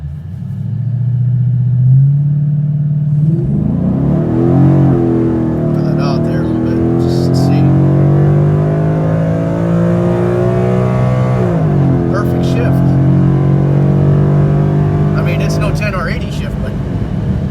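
A 2014 Ford Mustang rumbles close by as it drives and accelerates through several gear shifts, the engine note rising and dropping, with someone talking over it.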